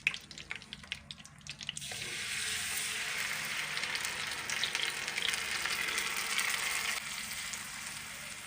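Chicken marinade with cloves and cardamom hits a hot pot and breaks into a loud, steady sizzle that holds for several seconds after a few clattering knocks, close by with no talking.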